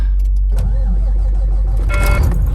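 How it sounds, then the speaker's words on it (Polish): Truck engine cranking after sitting switched off through a freezing night, a brief close churn that catches and settles into a running idle. "czy mi trak zapali, jak siedział wyłączony przez całą noc"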